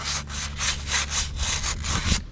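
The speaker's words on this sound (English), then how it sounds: "I'm gonna try and polish this gunk off of here" Rhythmic back-and-forth rubbing strokes, about a dozen in quick succession, a close, scratchy abrasive sound of polishing grime off a metal gear from an Acura Integra.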